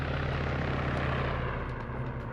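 A helicopter in the video game Arma 3 flying, with a steady loud rotor and engine roar throughout, no talking.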